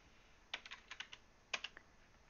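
A computer keyboard being typed on in short, quiet clusters of close clicking keystrokes, two bursts about a second apart against near silence.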